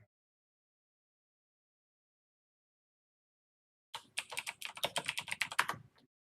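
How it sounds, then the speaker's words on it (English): Fast typing on a computer keyboard while playing City of Heroes, a burst of quick, dense keystrokes arriving after a long silence and lasting about two seconds, close and clear. "so it's going to be a lot of typing, so you're going to hear a lot of typing."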